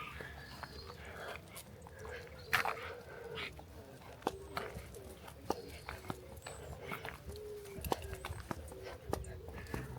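Dogs bark and yelp repeatedly outdoors in St Neots, with short sharp calls over a busy background and occasional clattering. Someone speaks faintly in the background.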